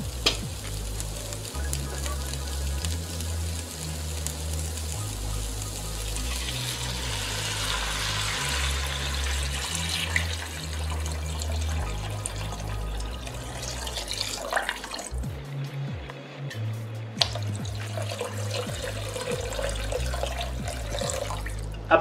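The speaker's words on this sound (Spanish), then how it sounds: "Y le voy a agregar agua." Water poured into a pot of Peruvian cau cau de mondongo (tripe stew), a steady sizzling, splashing wash of liquid over a low background hum, with stirring noises and no talking.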